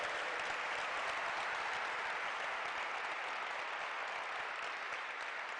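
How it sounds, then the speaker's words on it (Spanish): Steady, thick applause from the audience at the 2021 Laboral Kutxa Deia Hemendik Sariak awards ceremony in Txorierri, a continuous roar of hands that runs unbroken. "Un aplauso, un merecido aplauso."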